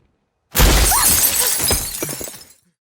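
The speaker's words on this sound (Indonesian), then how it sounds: "Tiba-tiba saja kaca mobil Spencer pecah dengan sendirinya." A car window is smashed by a thrown rock tied to a letter: a sudden loud crash, then a dense spray of breaking glass that tinkles and rattles for about two seconds before stopping abruptly.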